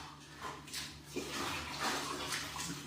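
Water splashes and pours steadily in bursts, with some soft rushing, as a dog is bathed in a tub.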